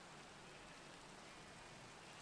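Steady rain in Minecraft, a soft, even hiss of falling drops that stays faint and continuous throughout, with no voices over it.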